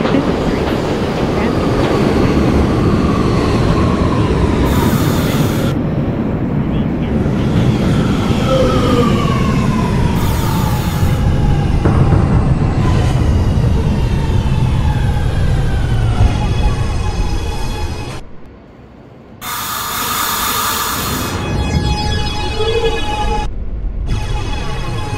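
R211A subway train on the A line at 125th Street in the OpenBVE simulator, loud rumbling and clattering through its arrival, chimes and door sounds during a brief pause, then rumbling away again.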